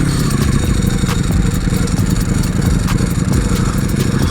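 A BMW M 1000 XR motorcycle engine roars loud and close at speed, a dense continuous growl mixed with wind and rattling clatter, no voices.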